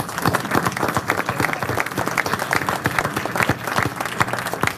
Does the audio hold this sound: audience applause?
yes